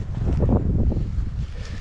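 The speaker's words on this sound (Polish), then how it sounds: "wieje wiatr" Wind blows hard against the microphone in a garden where a drone is flown, a steady low rumbling buffet with gusty swells throughout.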